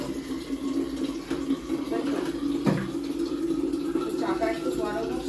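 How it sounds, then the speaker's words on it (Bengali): Water from a tap runs steadily to fill bottles at home, a constant close rushing stream with faint clatter, and a voice speaks softly over part of it. "সেভাবে জল দিয়ে ভরে নিই"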